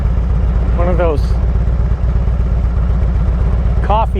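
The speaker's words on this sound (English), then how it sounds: "coffee can exhausts on a little 4-cylinder car." A small 4-cylinder car with coffee-can exhausts idles in a loud, steady low rumble, with brief rising revs near the start and again at the end.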